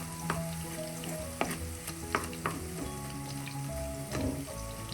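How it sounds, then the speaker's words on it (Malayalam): Onions sizzle steadily in oil for chicken Maharani, a constant crackling hiss with a few sharper spatters and stirring clinks scattered across, close and alone with no talking. "ഉള്ളിയൊക്കെ ഒരുവിധം ഫ്രൈ ആയിട്ടുണ്ട്"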